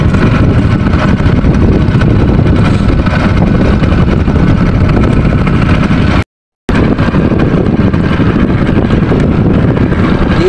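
A boat engine running at sea gives a loud, continuous low rumble mixed with heavy wind buffeting the microphone, broken by one brief dropout midway.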